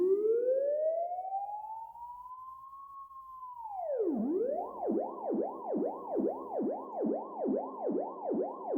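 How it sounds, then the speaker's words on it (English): A police siren synthesized in Vital, panned far to the left and distant. A long rising wail levels off, then drops into a fast repeating yelp, steady and fairly faint, with no talking. "So let's have a siren on the left-hand side pretty far away from us."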